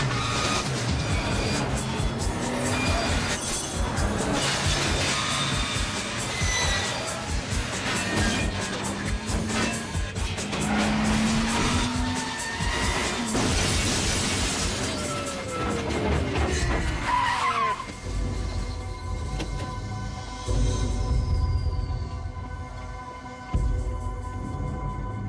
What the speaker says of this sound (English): We are in pursuit of a red pickup truck.